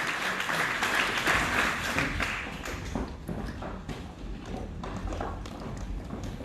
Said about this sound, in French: Merci à vous, merci à tous les 6, on peut les applaudir bien fort